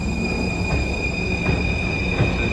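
A Paris metro train rumbles steadily nearby with a constant high whine, low rolling noise throughout and no voices.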